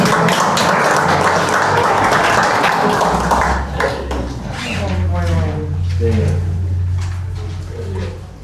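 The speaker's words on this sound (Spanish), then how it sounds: "Un aplauso a los lectores." An audience at a storytelling event applauds the readers with a short burst of dense clapping, which fades after a few seconds as a voice begins speaking.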